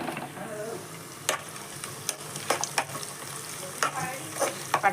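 Green chilli, cinnamon and onion sizzle in a hot pan, with a constant frying hiss broken by sharp scraping and stirring clicks, close and without speech.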